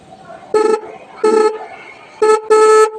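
A SYM RV motorcycle horn is tested in four loud, clear honks: two separate blasts, then a short one followed quickly by a longer one, against a quiet background.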